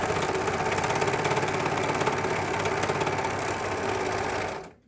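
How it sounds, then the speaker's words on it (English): A sewing machine runs continuously and close, stitching a seam in a fast, steady mechanical chatter for several seconds before stopping abruptly. "I'm going to put those together, and I'm going to stitch a seam."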